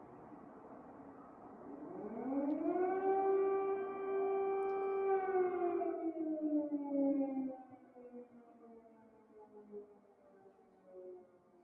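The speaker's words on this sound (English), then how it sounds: "More sirens from another angle." A wailing siren rises in pitch, holds a long steady tone, then slowly winds down, heard alone at moderate volume on a news stream from Kharkiv.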